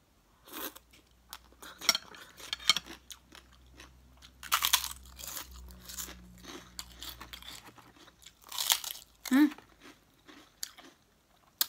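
Crunchy rice crackers eaten with spicy papaya salad (som tam) and rice noodles, close, loud crisp bites and chewing crunches repeating through the meal, with someone talking between mouthfuls.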